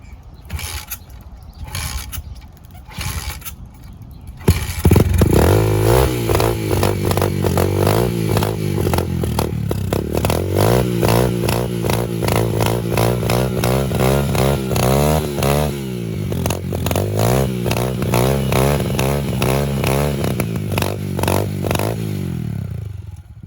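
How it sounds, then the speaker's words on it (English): A 150cc motorcycle starts up and then revs hard through a burnout, its engine holding a loud, close, rising and falling mechanical drone with rattling and clatter for about twenty seconds after a few short sputters at the start. "This guy's gonna do a burnout"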